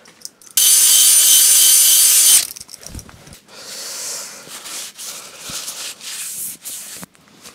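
A drill-driven hone grinds inside an engine cylinder of a Honda CD200 Benly motorcycle under restoration, a loud steady rasp for about two seconds, followed by quieter scraping and clicking handling noises.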